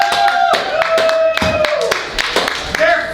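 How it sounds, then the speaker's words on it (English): Audience clapping for a poet at a poetry book release event, a burst of claps scattered through a noisy room with voices and cheers mixed in. "Let's give her an applause."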